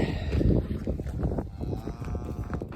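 Cattle in a snowy holding pen moo in a steady low chorus of overlapping calls, close by and continuous, with faint clip-clop of hooves mixed in.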